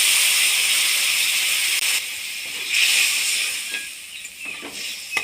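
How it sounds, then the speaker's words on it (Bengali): Water poured into spices frying in a pan for a vegetarian paneer and cauliflower curry gives a loud, steady hissing sizzle that eases off after a few seconds, with a few small pops toward the end. "এবার জল দিয়ে কষিয়ে নেব।"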